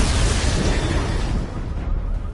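Missile barrage explosions in Batman Arkham Knight, a loud dense rumbling roar of blasts that fills the whole moment, fading slightly toward the end.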